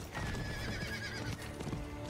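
A horse in the video game Diablo 4 whinnies loudly while its hooves clip-clop steadily, the neigh and hoofbeats continuous and close throughout the brief moment.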